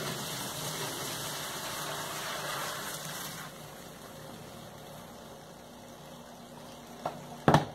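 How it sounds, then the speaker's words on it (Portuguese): Homemade liquid soap pours into a larger bucket with a steady, rushing splash for about three seconds. It then thins to a quieter trickle, and a couple of sharp knocks sound at the end. No one speaks. "Vamos colocar ele dentro do balde maior."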